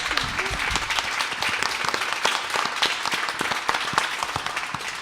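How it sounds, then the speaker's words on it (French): An audience at a mental health round table applauds the speakers: continuous clapping with sharp individual claps standing out, fairly close and steady throughout. "je crois déjà qu'on peut applaudir nos interlocuteurs"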